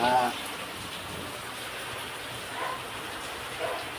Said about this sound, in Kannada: ಈ ಒಯ್ಯ ಮಳೆ ಹೋಯ್ತಾ ಇದೆ, ಸೋರ ಮನೆ ಸೋರ್ತಾ ಇದೆ.